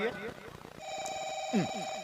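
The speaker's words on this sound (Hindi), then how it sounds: "फिर काकर फोन आ गए" A telephone rings with a steady electronic tone under a voice as he talks nearby.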